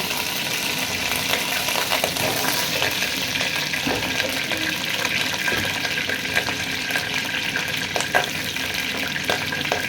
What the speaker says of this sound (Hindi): आयल हमारा गर्म हो चुका है, इसमें अब डालेंगे आलू।